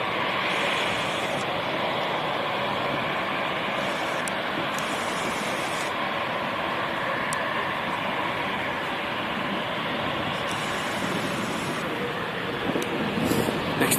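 Steady, distant jet roar from an aircraft departing London City Airport for Edinburgh, holding a broad, even rush throughout with no voices.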